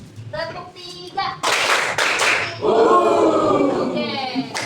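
Classroom children clap a third rhythmic pattern in an icebreaker game, a burst of loud claps then a long, dense run of clapping, with a teacher talking at the start and end.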